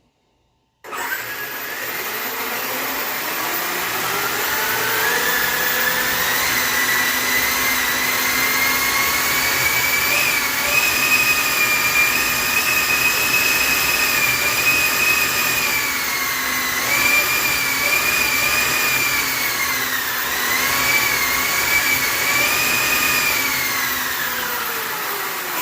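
A small jet turbine on a 1/5 scale RC jet truck runs on a bench test, spooling up abruptly to a loud, steady whine and roar that holds for about 25 seconds with slight pitch wavers.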